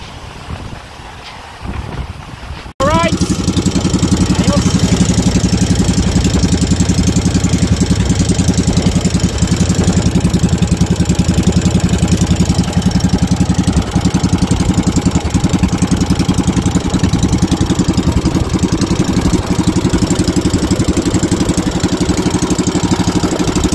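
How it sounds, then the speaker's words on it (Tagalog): A small boat's engine is started and then idles with a loud, steady mid-pitched drone that runs on evenly after a short quiet start. "Stahin muna natin ang ating makina."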